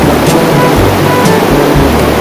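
A strong river current rushes at Wawa Dam as a loud, dense, continuous roar of turbulent water, close by and steady throughout with no talk.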